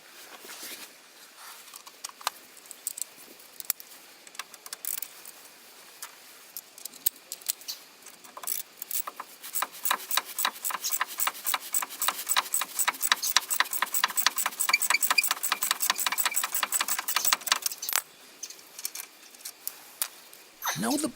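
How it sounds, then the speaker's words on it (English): A ratchet or electric impact gun undoing brake carrier bolts on a Vauxhall Antara front brake. Sparse clicks grow into a long, fast run of close ratcheting ticks, then ease off near the end. "you can then use a ratchet or electric impact gun to undo them"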